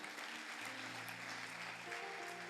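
A church congregation applauds in continuous dense clapping with a sustained musical tone underneath, fairly distant and even throughout.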